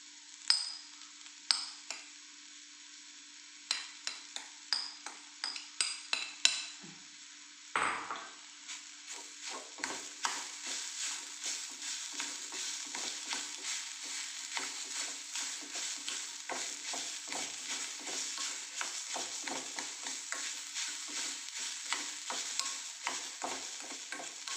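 Tender jackfruit thoran with grated coconut is stir-fried in a pan, with a spatula scraping and clinking against the pan in a steady, repeated rhythm over a soft sizzle.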